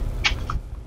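A single short cat meow from the Deathless video game, fairly clear and close, rising briefly over a low background rumble.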